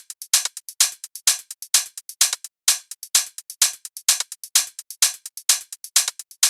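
Crisp hi-hats tick in a fast, busy sixteenth-note pattern, several layered hits with varying accents repeating evenly, bright and dry with nothing else playing.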